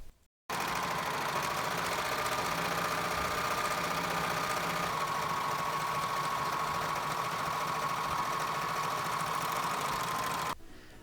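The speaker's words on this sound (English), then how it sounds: "And here is some serger ASMR if you like really loud noises." A serger overlock machine finishes fabric edges on an Edwardian-style dress. Its loud, continuous motor drone and rapid mechanical chatter run steadily for about ten seconds, then cut off abruptly.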